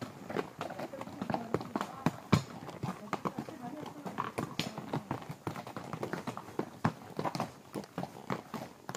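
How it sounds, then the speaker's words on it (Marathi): Horse hooves at the hill station of Matheran, a close, quick run of clip-clopping taps continuing steadily throughout, while people talk nearby. "तुझा घोडा कुठे आहे?"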